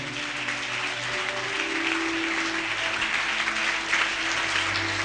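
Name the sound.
congregation applauding and cheering for Jesus in church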